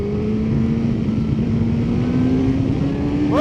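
A powerful motorcycle revs hard under acceleration while wheeling, one rising engine note climbing steadily and loud close by, ending with a quick shift.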